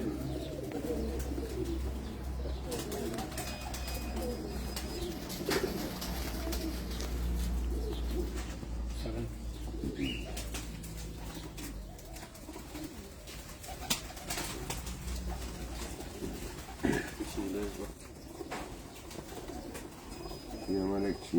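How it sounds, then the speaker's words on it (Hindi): Cheena pigeons kept on a rooftop loft in Abu Dhabi coo in low, repeated calls, fairly close, over a soft background hum with occasional chirps. "ये हमारा एक चीना कबूतर है"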